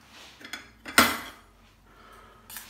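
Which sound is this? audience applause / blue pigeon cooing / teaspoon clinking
teaspoon clinking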